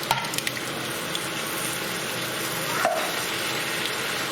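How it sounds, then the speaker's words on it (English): Steady, close sizzling of lamb masala frying in a pan as a tin of tomatoes goes in, a continuous hiss with a few small clicks and no talking. "next to go in is our tin of tomatoes"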